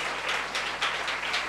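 A congregation at a Hindi prayer meeting in Naigaon claps together, a steady dense wash of hand claps that swells and dips in quick waves, filling the room with no voices standing out.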